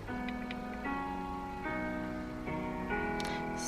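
Lany's song Malibu Nights playing very quietly, soft sustained chords shifting every second or so at low level with no one talking.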